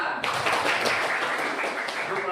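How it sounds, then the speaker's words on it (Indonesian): A classroom audience claps hands together in a dense, steady burst of applause that fills the whole moment at close range. "Ya, tepuk tangan."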